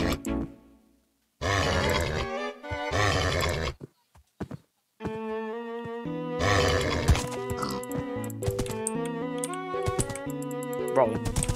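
Minecraft horse sounds: loud whinnies and snorting grunts in short bursts, separated by gaps, with a tamed horse then braying in clustered, tonal calls over a light clatter.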